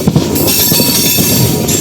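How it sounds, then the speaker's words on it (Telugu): An Amrit Bharat Express train pulls out of Thiruvananthapuram North station, with a loud, close rumble of carriages, clattering wheels and a thin squeal of wheels on rail running throughout. "మన ట్రైన్ అయితే ఇప్పుడే తిరువనంతపురం నార్త్ రైల్వే స్టేషన్ అయితే దాటింది."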